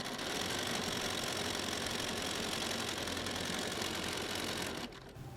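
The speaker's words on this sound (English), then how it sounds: "taking a few stitches to lock it down" A domestic sewing machine runs steadily while stitching a quarter-inch seam on quilt strips, its continuous whir holding for about five seconds before stopping abruptly near the end.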